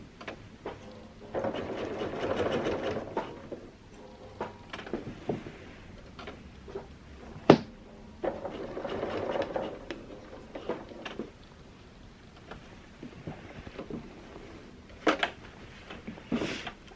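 A sewing machine runs in bursts while quilting a small penguin quilt, its stitching hum pausing between passes as the presser foot is lifted by hand to pivot, with occasional sharp clicks and knocks in between.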